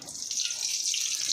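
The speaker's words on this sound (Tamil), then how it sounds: "இப்போ சட்டி சால்னாவுக்கு சூடாகிட்டு இப்போ ஆயில் ஊற்றுதேன்." Cooking oil poured into a hot kadai to start chicken salna gives a steady, close, bright hiss that holds evenly for just over a second, with no talking.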